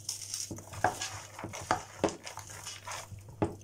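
Stirring chicken with vegetables, onion and marinade in a pan: irregular scraping strokes and soft clinks over a faint sizzle, close and moderately quiet, with no talk.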